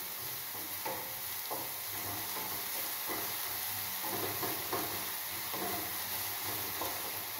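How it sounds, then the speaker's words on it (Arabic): Onions frying and sizzling in a pan while being stirred, a steady close hiss with soft scraping strokes recurring throughout, no talk. "ابخي كنحركو البصله ديالنا مزيان باش تشحر مزيان."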